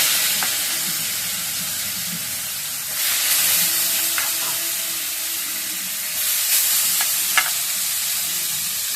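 Bitter gourd (karela) sizzles steadily in a hot pan, with intermittent scraping clicks of a spatula stirring it and brief swells of louder frying, close and without talk.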